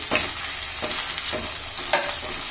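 Onions fry in a pan with a steady sizzle while a spatula stirs and scrapes in rhythmic strokes, about four or five of them, close and clear. There is no speech.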